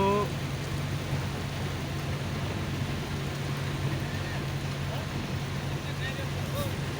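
Steady rain pours down on flooded streets in Hoskote, Bangalore with a constant wash of noise, layered over a low rumbling hum, continuous throughout without pause.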